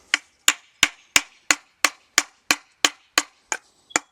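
Twelve sharp, evenly spaced hammer taps drive a wooden handle onto old garden shears, each a crisp close knock with a brief ring, steady rhythm about three per second.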